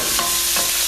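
Salmon sizzles in a hot pan, a close, loud, continuous crackling fry with a faint scrape of stirring.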